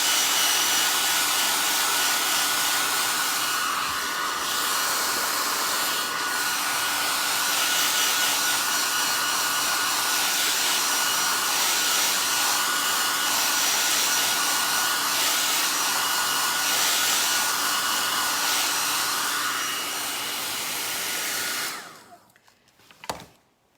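A hair dryer blows steadily on a painted wood box, a loud continuous whooshing hum with slight shifts in tone as it moves, running for over twenty seconds before clicking off.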